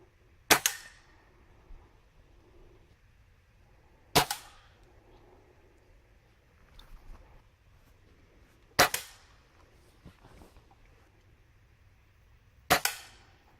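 Four sharp gunshots ring out one at a time at a cottage, each a loud crack spaced several seconds apart with quiet pauses between.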